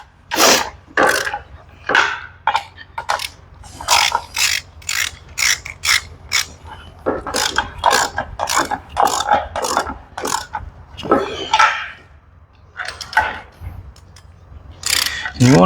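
Ratchet tightening the top transmission bolts under a truck during an engine swap, rapid loud clicking strokes in quick bursts, close up, with a brief pause midway and no talk.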